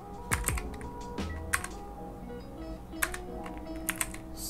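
Quick bursts of clicky keystrokes on a computer keyboard while Python code is entered, with irregular taps and a few sharper key hits, close and fairly soft, no talk.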